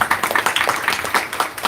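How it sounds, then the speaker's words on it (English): A satsang audience breaks into a dense round of applause, steady overlapping claps filling the short stretch at a moderate distance with no talk on top. "I too want to show appreciation with a big round of applause for all."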